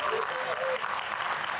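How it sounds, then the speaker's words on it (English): Brief applause from a seminar audience at a veterans' organization membership event, a dense, fairly faint wash of clapping throughout. "please give them a round of applause"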